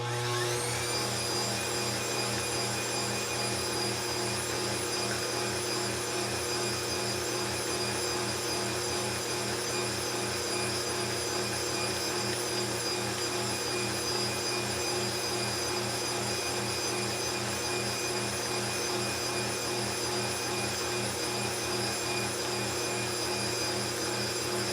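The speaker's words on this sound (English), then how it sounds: "Scrape your sides. And turn it on again fast." Electric stand mixer running steadily at high speed while beating chocolate buttercream, a loud continuous motor whir with a constant pitch that holds unchanged for the whole stretch, with no voices over it.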